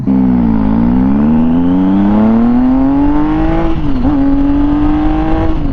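A 2017 Triumph Tiger 800 XCx motorcycle fitted with a Dan Moto exhaust, revving up close and loud, its pitch climbing steadily and dipping once before rising again, with a smooth, high-revving note.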